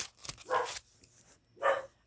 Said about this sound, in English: I've got to go see what's going on with the dogs.